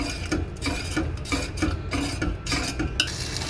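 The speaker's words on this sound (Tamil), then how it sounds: "ஆட் பண்ணி நல்லா மிக்ஸ் பண்ணிக்கலாம்." A spoon stirs half a cup of honey into sugar syrup in a pan, giving close, rhythmic scraping strokes repeated several times a second.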